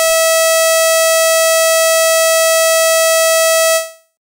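A Mach 5 audiovisual alarm signal blares a single steady, loud electronic siren tone with rich harmonics, holding for nearly four seconds before cutting off abruptly, with nothing else audible.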